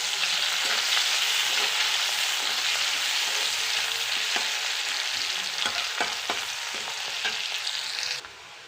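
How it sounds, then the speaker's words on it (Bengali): Onions frying in oil left from frying potatoes and okra in a pan, a loud, steady close sizzle with scraping stirs, cut off abruptly near the end. "পেঁয়াজগুলো ভালো করে ভেজে নেবো।"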